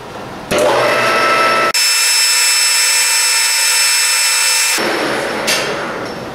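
A lathe boring bar cuts inside a tube with a loud, steady metallic whine and hiss, broken by a brief pause before continuing, ringing alone without speech.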